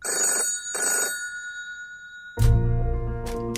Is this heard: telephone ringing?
yes